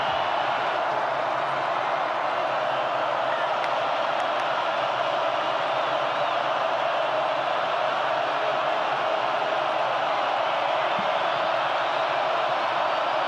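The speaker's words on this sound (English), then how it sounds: "now we're seeing the crowd at Carter Finley make noise" Football crowd at Carter Finley Stadium during a college game, a steady, distant roar of many voices sustained evenly without breaks or distinct peaks.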